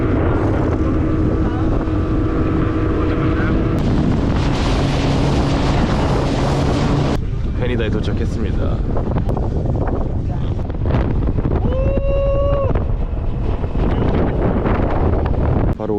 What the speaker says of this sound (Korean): 보트로 이제 올라탑니다